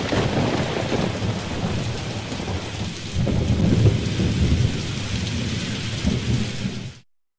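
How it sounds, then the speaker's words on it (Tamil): Heavy monsoon rain pours steadily over Chennai while deep thunder rumbles through the downpour, swelling louder midway. The storm fills the scene with dense, continuous noise, no voices, until it cuts off abruptly at the end. "சென்னை உள்ளிட்ட பல்வேறு இடங்களில் மழை பெய்து வரும் நிலையில்"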